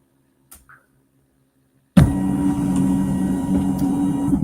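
An embroidery machine fitted with a Mega Turnable hoop starts stitching out a design, running as a steady close mechanical whir and rapid needle chatter after a moment of near silence.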